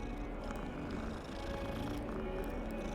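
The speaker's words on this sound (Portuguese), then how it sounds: "É um gato." A cat in the video game Hogwarts Legacy purrs in a steady, low, continuous rumble, close and quiet, with no talking over it.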